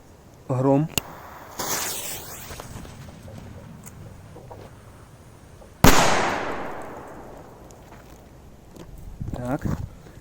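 A Grom (Thunder) firecracker goes off in a single sharp, loud blast, followed by a long fading roar and crackle. Softer bangs and rustling come before and after it.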